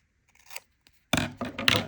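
Scissors cutting through craft kit material for a sugar skull dachshund art kit, heard as a soft snip early on, then louder close-up crunchy cutting strokes in a few bursts.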